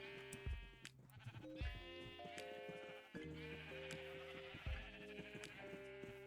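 Sheep bleating in the Minecraft video game, several distinct bleats in overlapping succession, loud and close, with a second animal voice answering and no speech.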